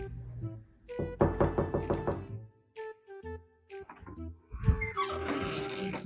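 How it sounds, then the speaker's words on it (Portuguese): Knocking on a house door at 3 a.m., a quick run of about eight sharp, evenly spaced raps up close, then scattered thuds with a brief bit of other sound after. "quem é que tá batendo na porta?"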